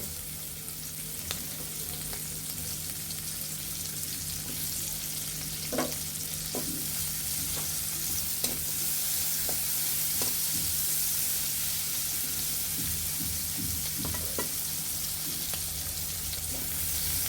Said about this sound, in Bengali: একটা চামচের পরিমাণের মতো তেল দিয়ে দিব এখন আমরা পেঁয়াজ কুচি দিয়ে দিব